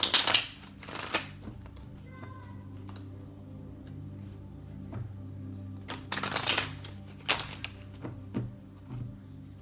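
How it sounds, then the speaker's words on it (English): Tarot cards being shuffled and pulled from the deck, with quick riffling bursts at the start and again later, separated by softer card handling and small ticks, close and fairly quiet. "Let's pull one more card for advice for you"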